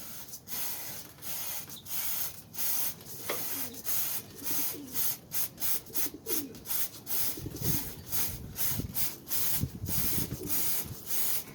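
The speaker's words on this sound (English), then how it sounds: "we're going to apply some cleaner" Cleaner sprayed onto the chain of a Honda CBR500R motorcycle, a long series of short, sharp hissing spray bursts in a quick irregular rhythm, close and fairly loud, with soft cooing birds in the background.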